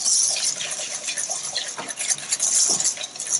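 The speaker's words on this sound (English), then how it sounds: "So I'm just combining the sugar and the yolk." Sugar and egg yolks whisked together in a bowl for crème anglaise: steady scraping and clinking of a whisk against the bowl, close and fairly loud, with a few sharper knocks.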